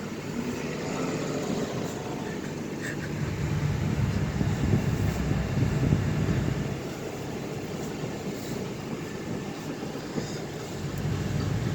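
A 1981 Plymouth Reliant K wagon pulls out and drives off, giving a steady, fairly loud engine and road rumble that swells slightly midway, with no one talking.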